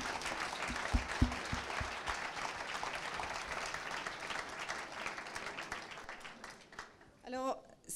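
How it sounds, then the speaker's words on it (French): Applause at an official French award ceremony for a national label for towns and villages; a sustained, moderately distant round of clapping with a few louder close claps early, and a voice speaking at the very end. "alors on les applaudit"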